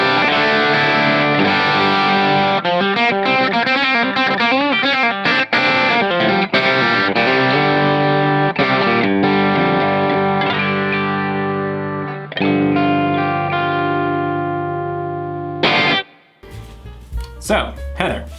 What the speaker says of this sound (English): guitar number 3 is my Godan Summit Classic SG